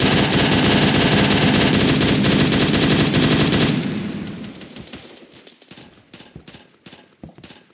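Phantom Forces video game gunfire opens as a loud, dense automatic burst lasting several seconds, then drops into scattered single shots and short volleys that grow fainter toward the end.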